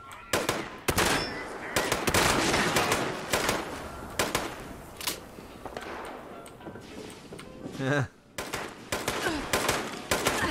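Gunfire in Fallout 76, sustained rapid bursts of shots across most of the stretch with a brief gap near the end before firing resumes, loud and close.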